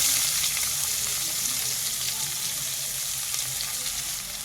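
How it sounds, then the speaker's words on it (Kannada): Finely chopped onion frying in a pan with cumin, a continuous close hiss and crackle at an even level, with faint stirring underneath and no talking. "ಈಗ ಚೆನ್ನಾಗಿ ಈರುಳ್ಳಿ ಬೇಯಬೇಕು, ಅಲ್ಲಿವರೆಗೂ ಫ್ರೈ ಮಾಡ್ಕೊಳ್ಳಿ."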